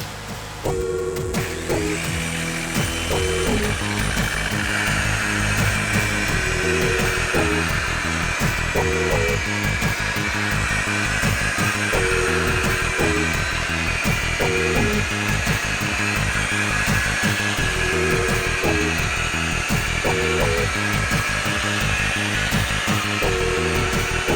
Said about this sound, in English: then I'll bust out my actual polishing wheel and do the very final step